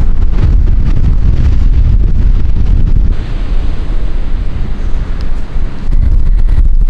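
Strong wind gusts across a beach at a kiteboarding race venue, a loud steady roar of buffeting and rushing air with distant surf underneath, no voices.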